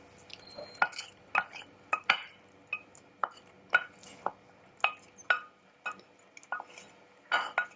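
Mushrooms, including porcini, stirred through a risotto in a pan: a run of soft, wet scrapes and clicks at a steady, uneven rhythm, close and fairly quiet, with no talking.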